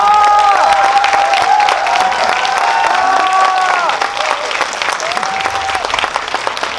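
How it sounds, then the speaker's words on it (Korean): A cinema audience at a film Q&A screening at Megabox COEX gives loud applause while the director and actor take their seats, with cheers and voices rising over the clapping, which eases slightly toward the end. "큰 박수 부탁드립니다."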